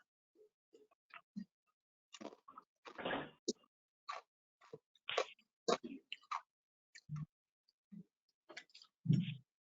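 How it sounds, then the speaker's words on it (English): Chips are crunched near an open microphone during a remote meeting call, heard as faint, scattered crisp crunches and small clicks in short irregular bursts with quiet gaps between. "somebody's got an open mic with somebody crunching chips in the background"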